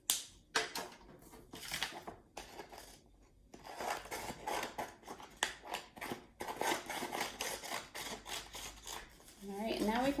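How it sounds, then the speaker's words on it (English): Scissors snip along a drawn line on paper during a preschool occupational therapy session, a quiet series of irregular crisp cuts and rustles, close by, with a brief voice near the end. "Now we're going to cut on that line."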